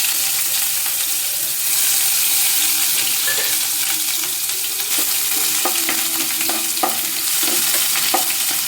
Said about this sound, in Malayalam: എണ്ണ ചൂടായി അതിലേക്ക് നമ്മൾ കടുക് ഇടുകയാണ്